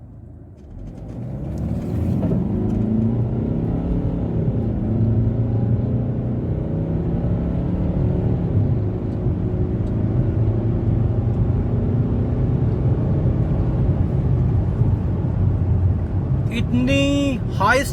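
A Mercedes-Benz E250 CDI accelerating hard from 0 to 100, its engine drone rising steadily and continuously for most of the run, heard from inside the car with a voice talking over it at times.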